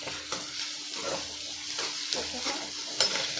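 Potato curry with salt frying in a pan while a spoon stirs it repeatedly, giving a steady close sizzle broken by rhythmic scraping strokes and a light clink or two, with no talk.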